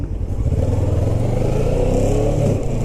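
A motorcycle being ridden along a road, its engine droning loud and steady throughout with a rumbling, throbbing tone and slight rises in pitch.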